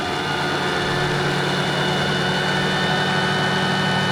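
A Vario MD-500E scale RC helicopter engine drones steadily and loudly with a constant whine, its revs dipping and rising briefly, heard close with no speech.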